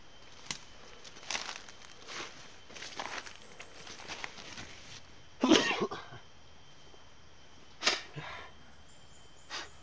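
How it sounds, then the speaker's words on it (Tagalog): A man on a mountain hike coughs several times over ten seconds, with a sharp, louder burst mid-way and another near the end, close to the listener, with light movement sounds between. "grabing ubo talaga idol. Inuubo talaga ako."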